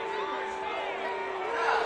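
Home crowd at a high school football game, Northern Nash vs. Southern Nash, giving off a steady roar of murmuring and shouts that swells louder near the end, with voices mixed throughout.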